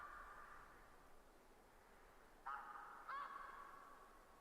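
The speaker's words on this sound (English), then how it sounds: "Oh, there are geese on the ground. Okay, that's the sound we're hearing, guys." Geese honking in the hunting game theHunter: Classic, two short distant calls rising above a steady wind-like background hiss.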